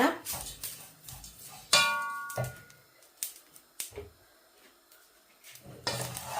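A spoon clatters and scrapes against a pot while masi sambal is mixed with fried onions and curry leaves, making irregular close clinks and knocks with quiet pauses between them.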